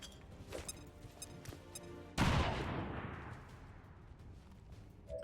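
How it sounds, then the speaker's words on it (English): A grenade explodes with a loud broadband blast and a long decaying rumble, after scattered gunfire shots in the tactical strategy game XCOM 2, Long War of the Chosen mod. "I think grenade plus direct fire will do for him."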